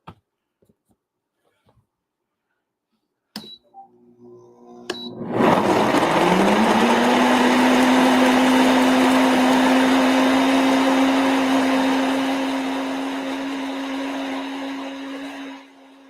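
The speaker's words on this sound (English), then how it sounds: "I'm going to turn it on." A blender whirs up after a few clicks and knocks, blending fruit with water in a loud, steady motor drone that settles to a constant pitch and eases slightly in level near the end.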